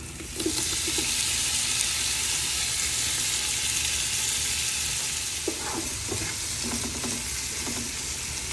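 Sliced tomatoes frying in oil over a roasted paste for Thalapakatti-style mutton biryani: a steady, close, hissing sizzle with a few soft stirring knocks.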